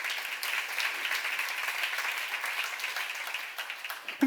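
A congregation at a church seminar claps together in sustained, dense applause at a steady level, with no voices over it until the clapping cuts off at the end.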